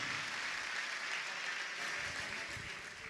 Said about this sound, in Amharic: ድጋሚ ጭብጨባችሁን በኃይለ ጌታ ክብር ልስማ